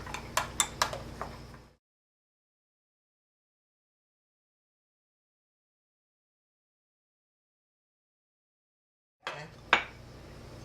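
Warmed clear gelatin is mixed into sour cream in a bowl: a few sharp spoon clinks at first, then a long silence, then another short cluster of clinks and scraping close by.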